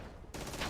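Automated turret gunfire in the Red Faction video game, a sudden loud burst of rapid shots that cuts in after a quieter moment and rattles on densely to the end, with no talk.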